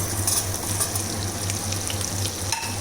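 Onions sautéing in a pan with spices over a low flame for butter chicken, a steady crackling sizzle with some stirring, close and continuous, no one talking.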